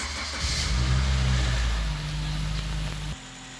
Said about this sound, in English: Let's finish with turning on the engine and shifting between gears.